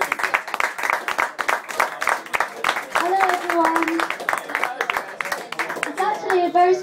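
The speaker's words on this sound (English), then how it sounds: "Clap hands" An audience in a lounge bar claps rhythmically to welcome a singer, with close, loud, steady hand claps and a few voices and a voice mixed in throughout.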